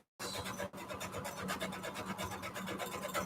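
A sewing machine running a very small zigzag stitch along fabric strips for a junk journal, a fast, close, steady mechanical whir that starts abruptly and continues without talk.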